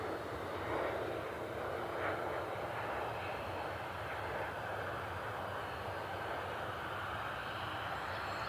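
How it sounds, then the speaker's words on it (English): A United 737 taxis out for departure at Cleveland Hopkins airport, its engines giving off a steady, continuous broadband rumble and whine at moderate distance with no break and no voices. "we got an aircraft that's taxiing out for departure"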